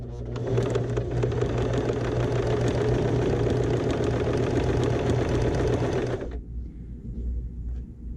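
A sewing machine stitching patchwork at a straight stitch with the needle centered, a loud, rapid mechanical whir running continuously for about six seconds before stopping abruptly, leaving a faint hum.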